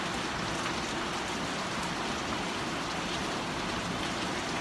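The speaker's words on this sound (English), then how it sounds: "But we got the rain. It's coming down really nice. Straight down, nice and gentle." Gentle, steady rain falls straight down over a home garden of plants and tomatoes, a continuous even hiss of drops hitting surfaces that stays at the same level throughout with no voices.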